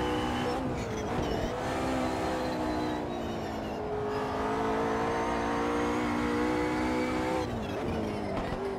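A race car in Automobilista 2 on the Interlagos circuit screams at high revs, its engine note climbing through steady acceleration with brief dips at gear changes, loud and close with no talking.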